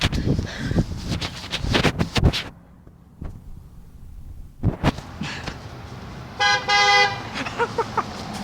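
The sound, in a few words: passing car honking its horn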